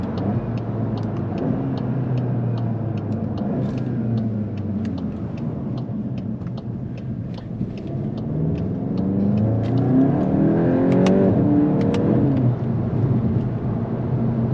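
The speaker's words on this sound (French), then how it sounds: "On a un retour à l'échappement. On entend également donc, le soufflement du turbo." A Volkswagen Golf 8 GTI Clubsport of 300 horsepower rumbles on its exhaust as the engine revs rise and fall, with a turbo whoosh near the end, heard from inside the car without talk.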